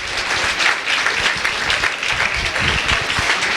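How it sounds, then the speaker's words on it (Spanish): An audience at an engineering lecture on software requirements bursts into loud, sustained applause, a dense wash of clapping that continues without a break. "Pues un fuerte aplauso, por favor,"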